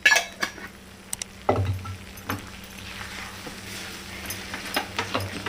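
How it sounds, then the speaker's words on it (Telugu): Moong dal halwa being stirred with ghee in a pan, a spoon scraping and clinking against the metal in irregular strokes, with a soft background hiss and a few sharper knocks, no voices. "కలుపుతా ఇట్లా ఒక్కొక్క 2 స్పూన్లు వేసుకుంటా కలపాలి."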